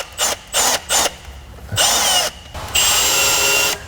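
Cordless drill whirs in short bursts: three quick triggers, then two longer runs, close and loud with a high motor whine, no speech.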